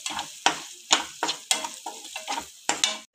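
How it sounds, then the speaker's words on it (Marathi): Garam masala and coriander powder sautéing in a pan for an egg curry, with a loud, steady sizzle broken by about eight sharp scraping strokes of a stirring spoon, close up and with no talk. "ते चांगले परतून घेऊ।"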